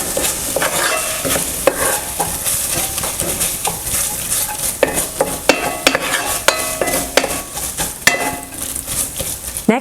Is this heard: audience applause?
no